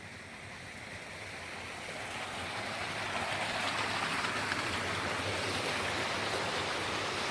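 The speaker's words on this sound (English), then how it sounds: "Nice little creek here." Steady rushing water of a small creek flows continuously, a broad gentle wash that swells slightly and then holds steady, with no voices.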